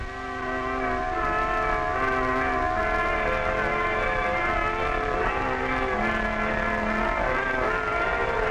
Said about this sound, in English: church bells are ringing this Christmas